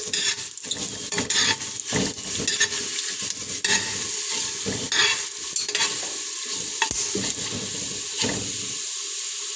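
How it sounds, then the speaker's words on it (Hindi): Cumin and coriander fry in a pan with a loud, steady sizzle, while repeated scraping stirs and clatters of the spoon punctuate it throughout. "जीरा और धनिया। थोड़ी देर के लिए इसको फ्राई करूंगी।"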